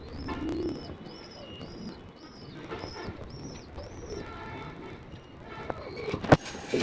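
Lahori pigeons at a pigeon farm coo in low rounded calls amid a busy flock, with a faint repeated chirping above and a sharp clatter near the end.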